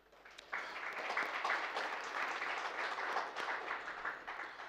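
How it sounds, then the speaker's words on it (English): An audience at the Data Artistry Tournament 2018 finals breaks into dense applause, steady and moderately loud after a brief quiet start, continuing through to the end. "this is an extra large round of applause"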